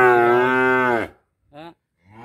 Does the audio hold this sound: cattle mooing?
yes